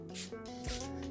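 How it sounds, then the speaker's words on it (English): Waterproofing spray from an aerosol can hits suede boots in two quick hissing bursts, close and fairly soft, with light rubbing between them. "Spray it across the toe box, tongue."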